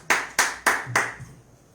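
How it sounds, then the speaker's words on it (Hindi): Four loud, sharp rounds of hand clapping from a church congregation during a Sunday service, evenly spaced in a quick rhythm, then a brief fade to near quiet. "सब जन एक बार जोर से ताली बजा के प्रभु को धन्यवाद देंगे"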